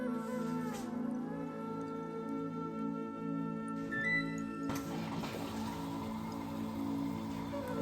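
Hisense washing machine starting a quick cycle, with water filling the drum as a steady low hum and soft trickling, splashing patter running throughout, fairly close and continuous.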